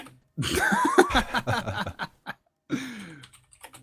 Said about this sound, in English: I'm just writing in the chat, so you can hear me typing away.